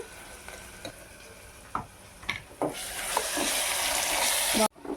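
Ginger garlic paste hitting a hot pan for tomato rice, a few clinks of a spoon against the pan, then a loud steady sizzle that builds and carries on close by.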